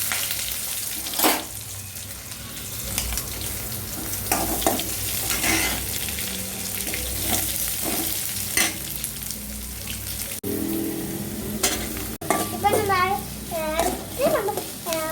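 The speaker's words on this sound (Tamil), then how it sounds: "நம்ம இப்போ நம்ம தாளிப்புக்கு போட போகிறோம்." Tempering for a brinjal masala fries and sizzles steadily in a pan, with repeated scraping stirs and sharper spatters, while a voice chatters in the background near the end.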